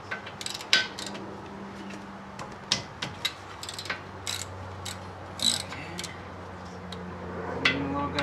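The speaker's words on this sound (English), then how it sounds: "I'm gonna go get my big Duralast wrench that has a big end on it" Large Duralast wrench working on 15 mm brake caliper bolts, with scattered metallic clicks, ratcheting and knocks close by and intermittent faint talk.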